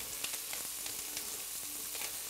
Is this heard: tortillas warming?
yes